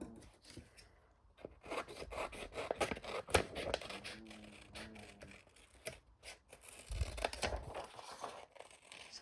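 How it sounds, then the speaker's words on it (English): Scissors snip around a handmade paper tag, a series of close, faint crisp cuts and rustles of paper and card, irregular in rhythm and with no talking. "So now I'm just going to cut around it."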